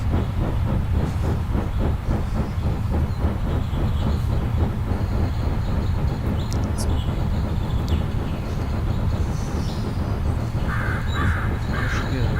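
A steady, rumbling Southern Pacific cab-forward steam locomotive in a train simulator chugs continuously with a rhythmic pulse and hissing, loud and close, while crow-like caws break in toward the end.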